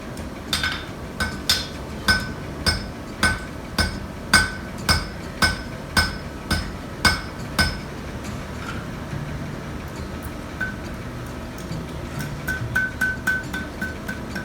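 A blacksmith's hammer strikes steel on an anvil in a steady run of sharp, ringing blows, roughly two per second, then a pause and a few lighter taps near the end, close and loud.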